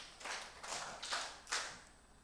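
Five hand claps in a row, evenly spaced about half a second apart, soft and somewhat distant in a room with faint background hiss.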